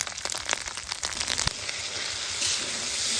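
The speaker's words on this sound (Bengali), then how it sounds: "এবার মশলাখান ভালোভাবে কষে নিব।" Powdered cumin, chili and turmeric fry in hot oil in a pan, giving a steady close sizzle with scattered spits and crackles.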